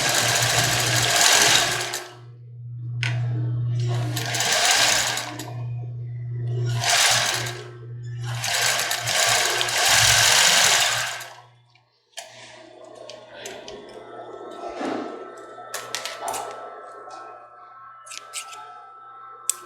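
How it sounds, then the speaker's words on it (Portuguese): A sewing machine stitches a small zigzag on a bra, whirring in four or five short rapid bursts with brief stops between them, followed by quieter handling clicks and rustling. "E aqui a gente vai colocar um zigue-zague pequeno"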